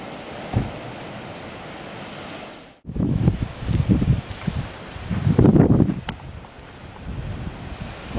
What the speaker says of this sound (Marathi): वारं खूप आहे त्यामुळे समुद्र चांगलाच खवळलेला आहे